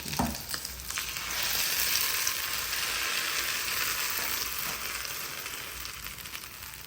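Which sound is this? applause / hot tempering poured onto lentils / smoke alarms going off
hot tempering poured onto lentils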